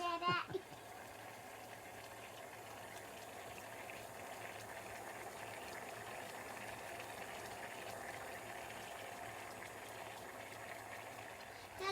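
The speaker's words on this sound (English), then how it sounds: "We now have to boil this seawater and see if we could make salt" Seawater boils in a pan to make salt, giving a steady, close bubbling hiss that runs unbroken for the whole stretch, with a brief knock at the start.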